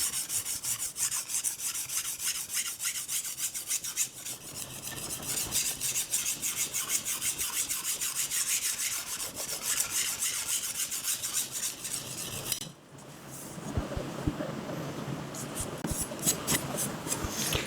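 A kitchen knife is drawn over a sharpening stone in quick, repeated rasping strokes while a burr forms along the blade. After a brief pause, a faster series of scrapes follows, close and fairly quiet.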